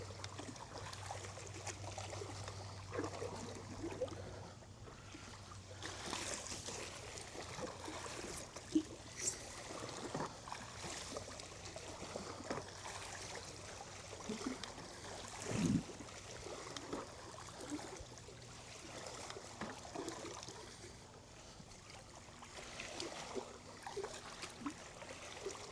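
Water sloshing and trickling around the surface of a swimming pool and spa as a skimmer net is swept through it, a steady soft wash with faint splashes throughout.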